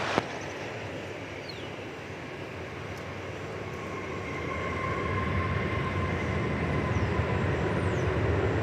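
A UPS Boeing 767 comes in to land at Dallas Fort Worth airport, heard as a faint, distant jet roar that slowly grows louder over several seconds under a steady background hum.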